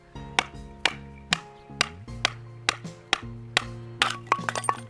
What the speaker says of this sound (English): We're going to try batoning quickly.